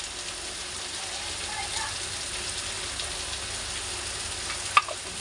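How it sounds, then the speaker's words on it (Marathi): Chopped tomatoes frying in a pan for kande pohe, a continuous close sizzle with faint stirring scrapes and a single sharp clink near the end. "त्या टमाटरला पण छान फ्राय करून घेऊया"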